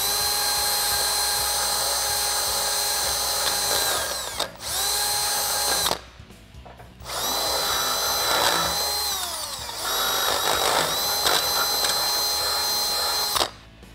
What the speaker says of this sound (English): let's go ahead and take our half inch drill bit and drill that out